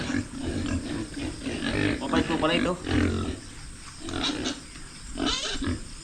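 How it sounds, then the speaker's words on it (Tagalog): A well-kept domestic pig on a family farm grunts and snorts repeatedly at close range, with people talking over and between the grunts. "Ganda, baboy ni nanay."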